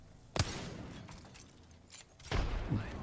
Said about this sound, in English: Goes for a nade.